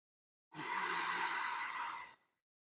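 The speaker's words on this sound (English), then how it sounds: "so that is the third breathing, that is the diaphragmatic breathing" A single long, steady breath, roughly a second and a half, breathy and close, demonstrating diaphragmatic breathing for diastasis recti and hernia, heard alone between pauses.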